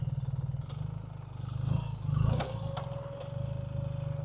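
A 2026 BMW R 1300 GS Adventure on street tires idles and putters off-road with a steady low engine thrum, rising briefly as it is turned, plus some clatter and scraping of gravel nearby.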